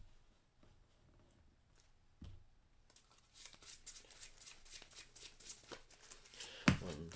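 Playing cards shuffled by hand during a Marvel Legendary deck-building card game, a run of quick papery riffles and slaps building from about three seconds on, close and fairly soft with no talking.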